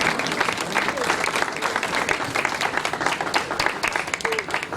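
A church congregation breaks into loud, continuous applause to welcome the pastor. The clapping is thick and rapid, with voices mixed into the crowd noise.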